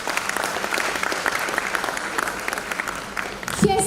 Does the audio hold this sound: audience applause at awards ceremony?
yes